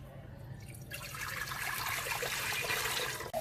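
Water pours into a cooking pot for porridge, a steady close splashing stream that begins suddenly and runs continuously, over a low kitchen hum with no one speaking.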